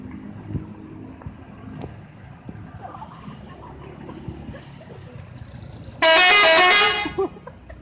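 A telolet bus horn on an Efisiensi bus blares a loud, bright melodic honk for about a second and a half, after a stretch of quiet outdoor ambience with faint engine rumble and distant sounds.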